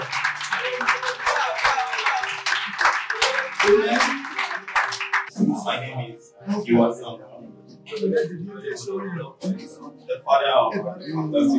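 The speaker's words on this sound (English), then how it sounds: "Can we give Jesus a clap?" Church audience clapping after a call to applaud Jesus, a dense burst of claps for about five seconds, then fading into scattered claps mixed with murmuring voices.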